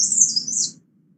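Recorded song of a leaf warbler from India, a single high, thin, rapid trill lasting under a second, loud and close, ending abruptly over a faint low background hum.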